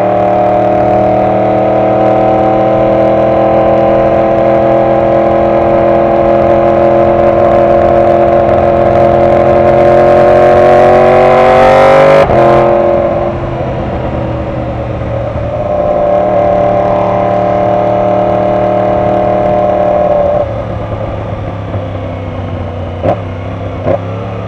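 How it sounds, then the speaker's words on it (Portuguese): A steady car engine drones close by in heavy, slow-moving traffic, rising in pitch around the middle, then settling to a lower idle-like hum with brief shifts near the end. "O trânsito é pesado porque a galera aqui anda muito devagar."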